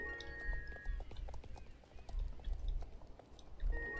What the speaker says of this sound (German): Pferd, du sollst aufhören zu tölten.